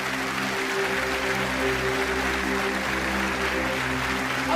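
Church congregation clapping in a sustained, even round of applause, with a steady hum of music beneath and no distinct speech.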